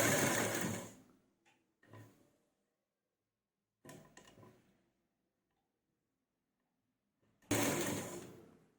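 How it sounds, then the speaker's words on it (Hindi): A sewing machine stitches a neck design in short, loud bursts of rapid mechanical whirring, separated by quiet pauses, with faint clicks in between. "और इसी तरह से हम पूरे गले में सिलाई लगा लेंगे"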